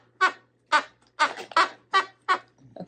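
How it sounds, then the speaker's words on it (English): A squeaky mouse-lemur plush dog toy from a dog subscription box gives six sharp, evenly spaced squeaks, close and loud, each a short pitched burst with silence between and no talking. "he makes a funny squeaking noise"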